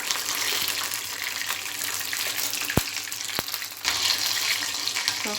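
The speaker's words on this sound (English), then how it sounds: "I'm cooking this, frying this chicken on low flame only" Chicken fries in oil over a low flame, giving a steady, moderately loud hiss and crackle throughout, with two sharp clicks partway through and the sizzle swelling slightly near the end.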